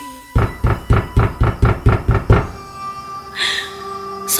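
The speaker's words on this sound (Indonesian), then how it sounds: "ketukan suara pintu digedor itu tidak berhenti" Eight heavy, evenly spaced thuds pound on a door in quick succession, loud and close, before stopping and leaving a quiet hum with a faint brief hiss.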